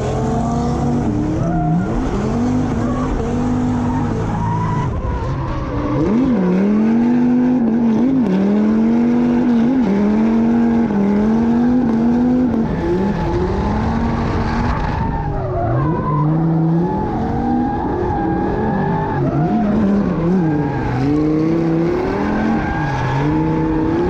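Drift cars battle door to door, with Dean Kearney out front, engines screaming at high revs and tires squealing loudly and continuously through long slides, all with no commentary.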